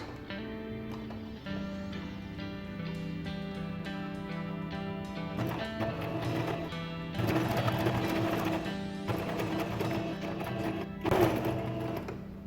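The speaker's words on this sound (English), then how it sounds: "And now for all corners, where we've drawn the line, we're going to stitch." Sewing machine stitching the corners of a reversible upcycled jeans basket, a steady motor hum with rapid needle chatter that starts, stops and surges in short runs, alone and fairly quiet.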